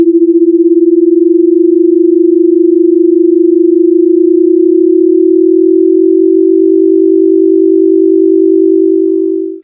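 Two pure tones sound together as one steady, loud electronic hum, with a faint wavering roughness at first that smooths out before cutting off.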